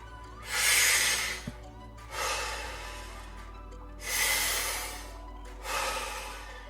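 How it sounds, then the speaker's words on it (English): Deep rhythmic breaths taken in the Wim Hof method: four long, loud airy inhales and exhales close to the microphone, each lasting about a second, separated by brief quiet pauses. "I'm going to ask you to breathe in. I'm expanding my chest, I'm expanding my stomach, and then I'm going to ask you to breathe out."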